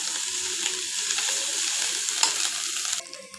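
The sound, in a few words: frying onion and garlic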